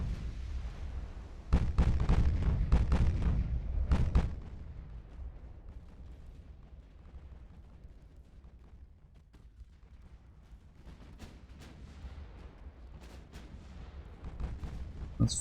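Battleship main guns fire in the naval game Ultimate Admiral: Dreadnoughts, a cluster of heavy booms in the first seconds followed by a low rumbling sea-battle bed with scattered distant shots.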